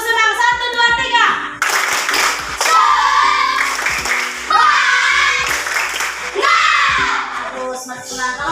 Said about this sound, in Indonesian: ayo tepuk senang